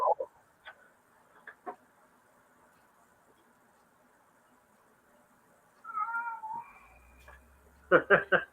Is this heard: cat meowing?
yes